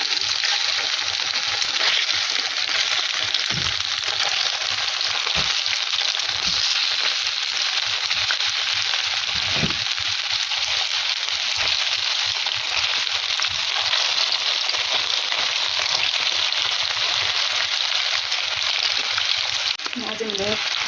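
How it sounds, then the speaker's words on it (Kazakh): Battered cauliflower fries in hot oil, giving a dense, loud, continuous sizzle with bubbling crackle that runs unbroken, plus occasional low knocks. "Енді қызып тұрған майымызға қуырып аламыз, қызартырып."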